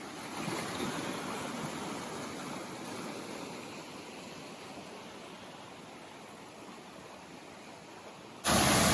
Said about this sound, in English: Why is this calm stream making all that noise?